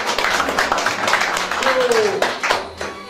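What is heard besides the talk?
applause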